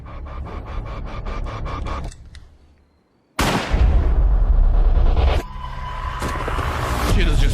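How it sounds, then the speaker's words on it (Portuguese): A rapid burst of gunshots rings out in a film scene, followed by a pause and then heavy, loud blasts and rumbling impacts that continue to the end, with no clear talking. "Tiros disparados."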